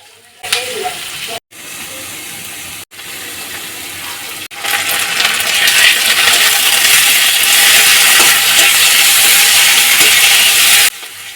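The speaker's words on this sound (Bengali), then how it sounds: "পেঁয়াজটা একটু ভাজা করে নেব।" A large sliced onion drops into hot oil with whole spices and frying begins, first in short sizzling bursts with brief gaps, then a loud continuous crackling sizzle that cuts off abruptly near the end.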